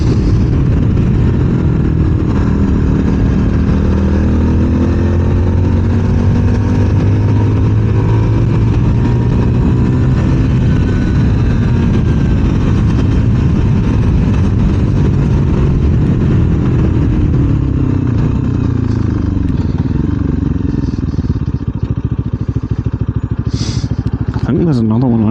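Motorcycle engine on a ride along Scotland's west coast roads, loud and steady under wind, rising and falling in pitch as the rider accelerates and shifts gears, with someone talking over it.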